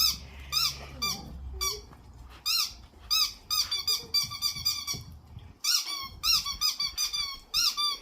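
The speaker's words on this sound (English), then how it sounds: "Get a squeaky toy, honey?" Chocolate Labrador Retriever puppies playing with a squeaky toy, producing rapid, repeated high squeaks in quick clusters and short bursts, close and loud.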